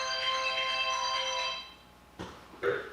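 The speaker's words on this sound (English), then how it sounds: "somebody's phoning me" A mobile phone ringtone chimes for about a second and a half, a steady melodic tone set against a quiet room; the ring then cuts off and a couple of brief, soft knocks or rustles follow.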